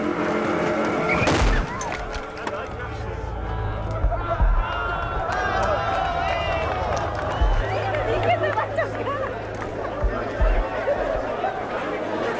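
Electric supercar driving fast toward a crowd on a South American road trip, tyres scrubbing and skidding with a rising whoosh, close and loud under steady crowd chatter and voices throughout.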